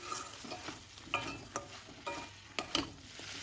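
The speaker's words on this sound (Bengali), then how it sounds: "সব মশলাগুলো ওর সাথে ভালোভাবে মিশিয়ে নেব" A spatula stirs pumpkin stem greens with cumin, coriander and black pepper powder in a pan, giving soft sizzling and irregular scraping taps, close but quiet, with no speech.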